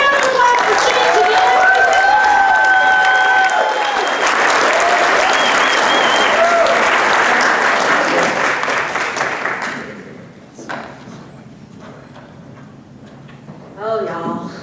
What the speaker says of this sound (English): Give her a big round of applause for singing to the